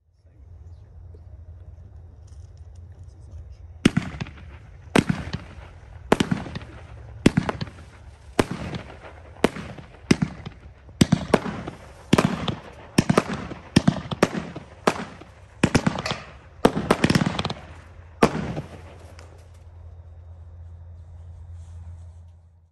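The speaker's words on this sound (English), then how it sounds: "Why is it called Silent Power? I thought fireworks were like loud and stuff." A Silent Power low-noise firework cake fires its 15 shots in a quick, uneven sequence of sharp pops over a low background hum, then fades back to quiet.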